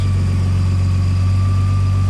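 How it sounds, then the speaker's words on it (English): An idling RB20DET engine in a Nissan S13 holds a loud, steady low drone, with a faint rapid ticking from a leaking exhaust manifold riding beneath it, close up. "the sound is coming from that area, the clicking sound, so it has to be the exhaust manifold"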